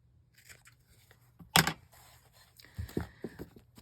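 Scissors cutting contact paper for a junk journal, a few brief snips and crinkles, one sharper cut standing out, in a quiet room with no talking.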